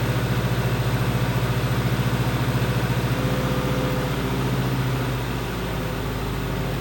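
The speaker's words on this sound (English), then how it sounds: "the motor's being started and it's running" A freshly rebuilt 390 FE V8 in a 1968 Mustang runs close by with a loud, steady, throbbing idle, its rhythmic pulsing lumpy at first and then settling slightly in pitch, with no talking.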